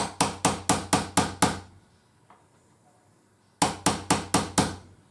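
A hammer or drift punch taps a rifle's Skinner peep sight into its dovetail, two sharp bursts of about six evenly spaced metallic raps separated by a short quiet pause, close and loud with no talking.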